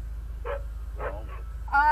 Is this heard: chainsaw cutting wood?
no